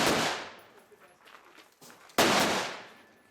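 Two loud gunshots from a gassed action-side match rifle with an ultralight bolt carrier, close by, the first fading into a ringing echo before the second sharp report near the end, with faint background noise between.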